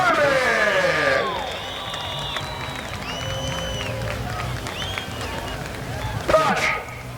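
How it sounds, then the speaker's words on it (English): A crowd at a truck race cheers and applauds after a modified class victory, with whoops and clapping under an announcer's talk, plus a brief louder burst near the end. "Big round of applause for Roger Turbin."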